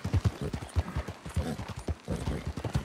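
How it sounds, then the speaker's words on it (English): Horse hooves clip-clopping through the streets of Saint Denis in Red Dead Redemption 2, a steady uneven walking rhythm of close, fairly loud thuds with no talk over them. "My horse is getting mad."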